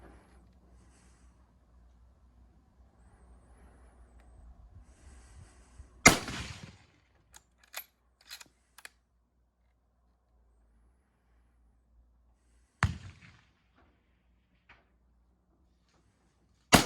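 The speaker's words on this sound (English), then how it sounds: "What a smooth cycling gun, and you see recoil from it is quite moderate, and that's the 7x57" A 2019 Rigby .275 (7x57) bolt-action rifle fires on a 100-meter range: a sharp, loud shot rings out, followed later by a second report and a third at the end, with faint clicks of the bolt cycling between.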